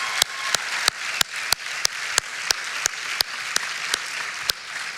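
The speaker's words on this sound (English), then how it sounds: "Give them a round of applause for being with us." Applause from the audience at a welcome-home celebration at NC State University, heard as steady mid-level clapping with regular sharp peaks running through the whole stretch.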